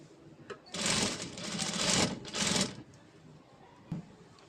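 Sewing machine stitching a blouse sleeve seam, two bursts of fast, even stitching about two seconds and one second long, separated by a short pause, fairly close and clear with no talk.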